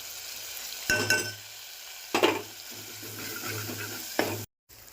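Onion, ginger-garlic paste, turmeric and salt sizzle steadily in oil in a pot, broken by a few sharp scraping stirs of a spoon against metal.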